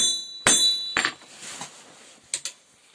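A hammer forging the tang of a Sakha knife blade: a few sharp metallic strikes with ringing overtones and quick rebound taps, close and loud, separated by quiet pauses.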